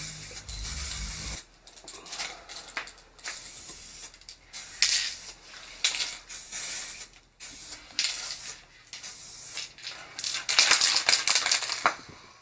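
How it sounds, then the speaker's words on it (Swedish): Bursts of aerosol spray paint hissing in short and longer blasts with brief pauses, close by, with a faint rattle at the start, while painting a Volvo 740. "då trycker han extra hårt på den här sprayknappen där. Det går att spraya lite hårdare."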